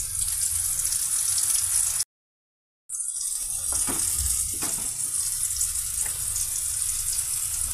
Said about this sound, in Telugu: కాకరకాయలు ఫ్రై అవుతున్నాయండి.